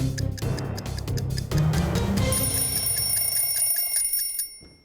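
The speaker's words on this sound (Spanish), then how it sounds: "Sonó la alarmita, vuelve y suena la alarma para ir a lavarse las manos." An alarm clock rings loud and insistent, with bright repeating tones that carry on for several seconds before cutting off at the end.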